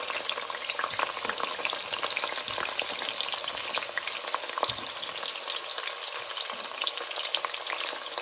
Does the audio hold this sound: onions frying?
yes